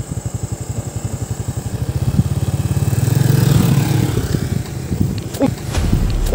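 A motorcycle engine putters with a rapid, regular thumping beat, revving up and growing louder, then easing off, heard up close outdoors.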